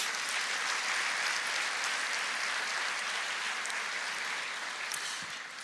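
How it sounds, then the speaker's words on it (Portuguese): Applause rolls through a church congregation praising the Lord, a thick, even wash of many hands clapping at once that holds steady before easing off near the end. "aplauda o Senhor"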